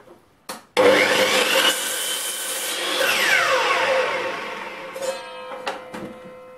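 A miter saw slices through a wood offcut, its motor whining up loudly and the blade biting through the board for several seconds before spinning down, with a few knocks of handling at the end.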